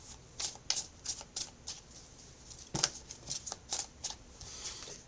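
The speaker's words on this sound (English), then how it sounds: "we'll call that sloppy shuffle because these cards are gigantic" Oversized tarot cards get a loose, sloppy shuffle: quiet, close riffling slaps and flutters in uneven bursts, with no talking.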